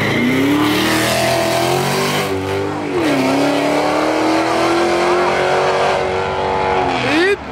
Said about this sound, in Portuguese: Chama no burnout!